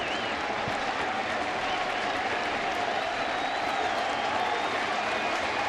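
A crowd of more than 40,000 at a baseball stadium, Reds visiting the Mets, roars steadily at a distance with a broad, continuous wash of cheering and clapping that holds at an even level throughout.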